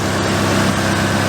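A car engine idles steadily and loudly up close, a smooth continuous low rumble with no revving or breaks across the short stretch.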